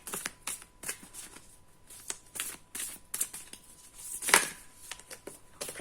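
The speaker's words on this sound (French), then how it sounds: "Elles sont tellement lourdes ces cartes que c'est très très difficile de les brasser." Heavy tarot cards being shuffled by hand in a quiet room, a string of soft riffling bursts with brief pauses between them and one louder, sharper riffle near the end.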